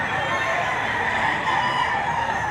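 Chickens and a rooster at the Padre Garcia livestock auction market in Batangas, a steady dense din of crowing and clucking fowl filling the space, with faint voices in the background.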